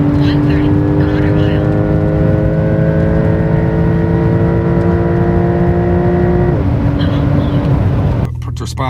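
A Porsche 911 Turbo S launches hard on an airstrip, its engine note climbing steadily through a long, loud pull before dropping sharply at a gear change and settling into a lower drone.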